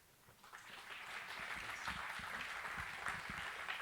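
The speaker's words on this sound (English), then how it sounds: "give another round of applause" An audience at an evening panel event on business leadership claps, a soft, steady patter of applause that rises quickly and holds at moderate volume, somewhat distant.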